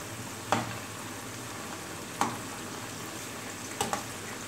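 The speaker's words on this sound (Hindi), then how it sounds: "इनको मीडियम आग पे इतना फ्राई करना है कि इनकी लेस ख़त्म हो जाए" Okra frying in hot oil over medium heat gives a soft, steady sizzle, broken by a few light stirring clicks, quiet and close with no voices.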